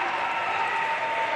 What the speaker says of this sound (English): seems to be garnering a loud crowd reaction